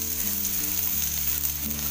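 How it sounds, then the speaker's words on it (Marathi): Onion, coconut and masala sizzle and fry steadily in a little oil in a wok, a close continuous crackle with no talk. "आता हे सगळं आपल्याला भाजून घ्यायचंय,"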